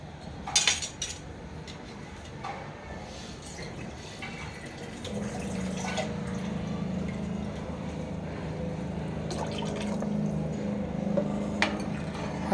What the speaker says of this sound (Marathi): थोडंसं पाणी मी वाढवतोय.